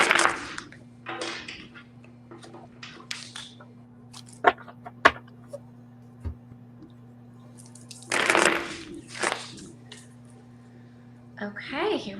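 Tarot cards are shuffled in short, crisp bursts of riffling and tapping, separated by quiet gaps, while a person talks nearby over a faint steady hum.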